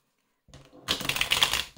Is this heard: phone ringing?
no